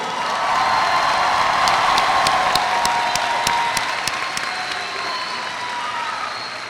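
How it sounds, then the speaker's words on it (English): A large crowd at the Martin High School class of 2022 graduation breaks into sustained applause with cheering and whoops, a dense roar of clapping in a big hall, loud and slowly tapering off over several seconds. "please give a round of applause for the Martin High School class of"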